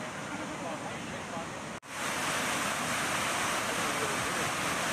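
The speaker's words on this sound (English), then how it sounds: "that water is flowing pretty heavily, even though the gates are not yet open" Heavy water rushes steadily past the closed gates of the Sacramento Weir in California, a loud continuous roar with a brief dropout partway through.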